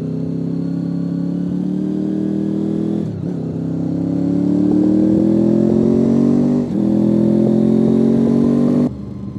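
A sports-touring motorcycle rides along a road, its engine droning loud and steady with a rising pitch as it accelerates, with a brief dip between gear changes.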